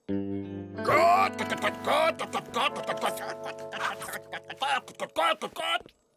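A cartoon ogre imitates a clucking hen with a voice, giving a rising squawk and then a run of choppy, uneven clucks that thin out toward the end.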